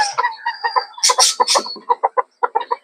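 A hen in her nest gives a run of short, close clucks and soft calls, rising into a few louder squawky notes midway before settling back into steady clucking, with no one talking.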